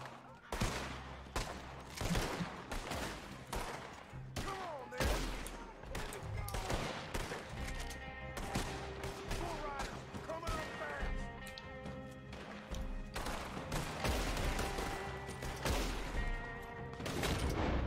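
Gunfire from a shootout with riders in Red Dead Redemption 2, loud sharp shots in rapid irregular volleys throughout, close and dense, mixed with game effects and occasional speech.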